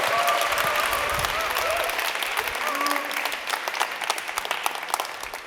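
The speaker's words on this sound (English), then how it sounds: "Are you ready to give him a big round of applause?" A conference audience at a web performance talk applauds a speaker, with loud, dense clapping from a crowd that thins out toward the end, and a voice briefly heard over it.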